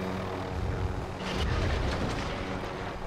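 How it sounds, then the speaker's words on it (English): A helicopter in a driving video game roars with a broad, steady rumble of engine and rotor noise, swelling slightly midway, with no voices. "Okay, so I destroyed the chopper and I tested a few things out too."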